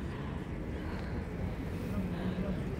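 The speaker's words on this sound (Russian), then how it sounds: "Трамваи, мотоциклы, так много-много всяких там" Noisy street traffic at Prato della Valle in Padua, Italy, including trams and motorcycles, forms a steady, fairly faint low rumble with no distinct passes standing out.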